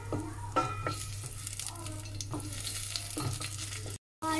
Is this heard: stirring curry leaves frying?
yes